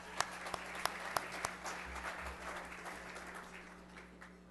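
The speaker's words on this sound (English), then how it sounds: "Could we give an applause to Arlie Ricasa?" Applause at the 2009 CPI gala for the MAAC Project: a faint, sparse patter of hands from a distant crowd, with a few sharper claps early on over a low background hum.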